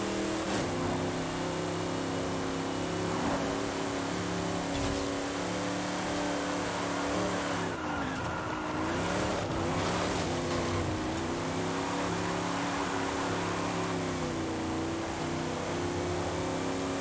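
A heavy 600-horsepower car engine drones continuously in Forza Horizon 5, steady loud harmonic hum with slight pitch dips and rises as it revs, no talking.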